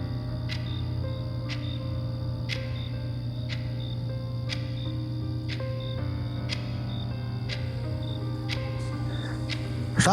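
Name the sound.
crickets chirping at night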